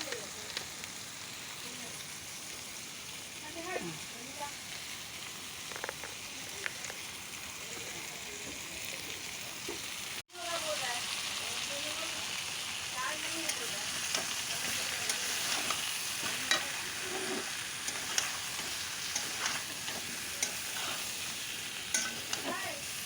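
Pointed gourd and potato curry fries in a pan with turmeric, a soft continuous sizzle broken by repeated scraping stirs and a brief interruption partway through, with a voice speaking faintly underneath.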